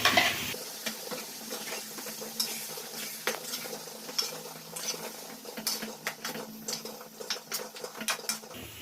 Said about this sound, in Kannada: ಒಂದು ಐದು ನಿಮಿಷ ಬೆಣ್ಣೆನಲ್ಲೇ ಬಿಸಿ ಆಗಲಿ ಮಸಾಲೆ